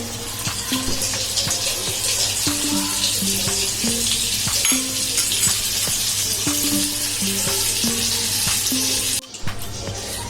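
A tablespoon of butter added to hot oil on a pan, a continuous crackling sizzle with scattered pops and clinks, steady and close for about ten seconds, ending in a brief break.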